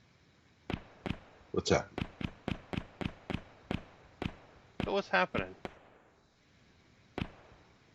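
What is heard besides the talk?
explosions in a coded animation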